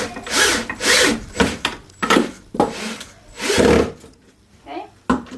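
Screws driven into wood with a power drill while hanging a quilt on a wall, several loud whirring bursts in quick succession separated by brief pauses.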